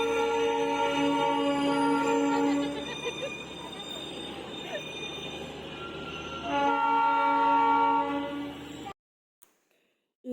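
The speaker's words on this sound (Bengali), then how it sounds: "সেই রোডটা দিয়েই নিউ জলপাইগুড়ি থেকে টয় ট্রেনগুলো দার্জিলিংয়ের ঘুমেতে পৌঁছায়" Darjeeling Himalayan toy train from New Jalpaiguri to Ghum passing along a roadside street, a loud sustained horn-like drone with rumbling wheels that fades and returns before cutting off abruptly, with voices faintly mixed in.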